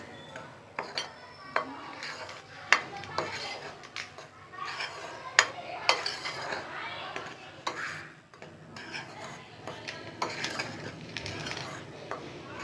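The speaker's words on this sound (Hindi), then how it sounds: "अब इसको हम अच्छे तरीके से मिक्स कर लेंगे।" Yeast dough ingredients, including yeast powder, being mixed in a bowl for pizza dough, giving irregular clinks, scrapes and knocks of a utensil against the bowl, moderately close and fairly steady throughout.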